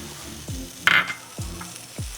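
Butter melting and sizzling in a hot pan over small-cut apples, a short burst of crackle and spatter with a few low thumps around it, no voices.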